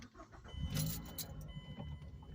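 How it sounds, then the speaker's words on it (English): Manual transmission car being started with the clutch pushed in, a brief starter crank and engine catching, faint and close, with a light jangle of keys. "I had to push the clutch pedal in to start it"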